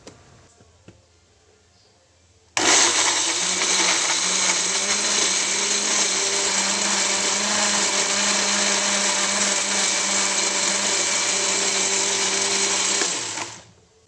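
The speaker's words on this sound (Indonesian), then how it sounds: "blender bawang dan cabai hingga halus" A blender starts abruptly and grinds shallots and chili at a steady, loud whir for about eleven seconds, then cuts off.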